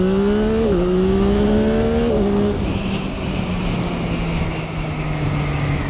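A Yamaha MT09 motorcycle accelerates hard from 0 to 100, its engine note rising through two quick gear changes before settling into a loud, steady roar with heavy wind rush.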